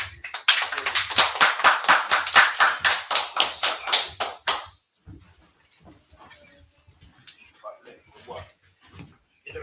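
An audience claps in a rapid, dense burst for a few seconds, loud and rhythmic, then thins into scattered claps and murmuring voices as people talk.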